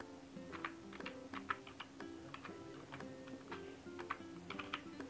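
Rapid keystrokes on a computer keyboard in irregular bursts of clicks over a steady low tonal background hum, with no speech.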